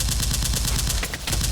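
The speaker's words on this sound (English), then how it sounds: "That was random gunfire." Random gunfire: a dense, continuous crackle of rapid shots, loud and unbroken over a short stretch, with no voices.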